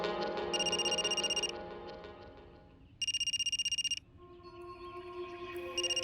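A telephone rings in two separate one-second bursts of rapid electronic trilling, with soft background music playing in between.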